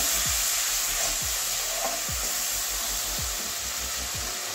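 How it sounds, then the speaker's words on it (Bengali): Spice paste cooking down in a pan with a splash of water for an egg, cabbage and carrot curry gives a steady close hiss of sizzling and steam, broken by a few soft stirring scrapes, with no talk. "জল দিয়ে কষিয়ে নেবো মশলাটা"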